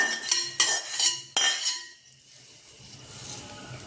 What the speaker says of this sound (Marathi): आता याला छान मिक्स करायचं।